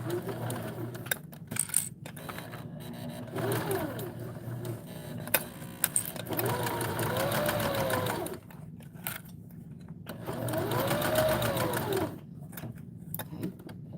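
A sewing machine stitches slowly around a corner of the fabric in several uneven runs with brief stops between them, close and moderately loud, with faint clinks in the background.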